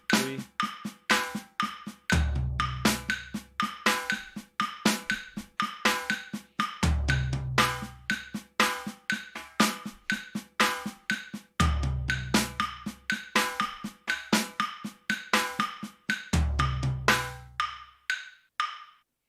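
A drum kit plays shifting single paradiddles, with the right-left-left groupings moved onto the toms, in crisp, even strokes and a deep tom accent recurring about every five seconds, played solo and close.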